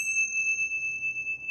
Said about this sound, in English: I'm going to chime our little bells